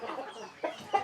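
Brooding hens on a chicken farm at Nkolfoulou give soft, low clucks: a murmuring stretch followed by two short, separate clucks, faint and close, with no talk.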